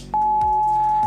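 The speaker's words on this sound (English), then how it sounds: "the EBS introduced something called the attention signal, two sine waves, one at 853 Hz" The Emergency Broadcast System attention signal, 853 Hz and 960 Hz sine tones played together, starts abruptly as a loud, steady, harsh electronic tone and holds for about a second.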